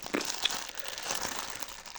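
Crinkly plastic wrapping being handled and pulled open from a 2011 LEGO parcel, a steady rustling crackle with a few sharper crinkles, close by.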